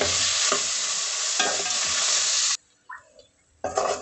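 Grated raw mango is stirred into a sizzling tempering of coriander and curry leaves: loud crackling frying with stirring scrapes, a short quiet gap, then the sizzle returns.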